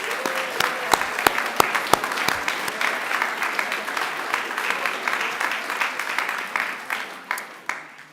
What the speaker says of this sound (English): turn to one another and give yourselves an absolutely resounding round of applause